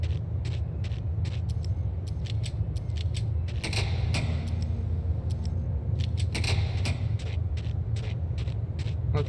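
In Max Payne, during a boat section, a door creaks and grinds over a low mechanical rumble, with clusters of clicking, rattling metallic taps and two louder scraping bursts, close and moderately loud.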